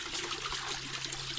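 Running water trickles steadily while someone washes their face, a close, continuous splashing stream with no talk.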